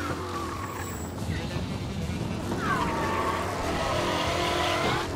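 Car engine in the video game Mafia: Definitive Edition running steadily with tires squealing through a skid partway through, a continuous loud drone under someone speaking.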